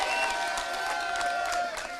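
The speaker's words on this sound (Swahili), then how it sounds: "Haya wajumbe wetu simameni, mwapigie makofi" Crowd applauding party delegates at a political gathering in Kenya, a dense continuous wash of clapping and crowd noise with scattered cheers throughout.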